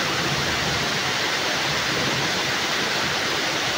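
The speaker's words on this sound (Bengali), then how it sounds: "দেখুন প্রচণ্ড পরিমাণে বৃষ্টি আসছে।" Heavy rain pours down steadily outdoors, a dense, loud, continuous hiss with no pauses and no voices.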